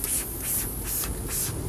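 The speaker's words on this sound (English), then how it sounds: "So let's turn on our sprayer and let's spray everything." A pump sprayer hisses cleaner onto the undercarriage of a Ford Mustang GT SN95 in short repeated bursts, about five pulses in quick rhythm, close and alone.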